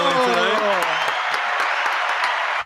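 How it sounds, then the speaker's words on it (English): Canned crowd applause plays as a sound effect in a podcast studio, a dense steady wash of clapping and cheering sustained at full level throughout, with a voice speaking over its opening moments. "got a fake crowd in the back"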